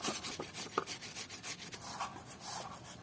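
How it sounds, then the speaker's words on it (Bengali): Tough, mature bottle gourd rubbed against a hand grater for a milk-gourd dish, giving a steady run of soft, rhythmic scraping strokes, fairly quiet and close, with no talking. "এখন আমরা লাউগুলারে ঘষে নেব।"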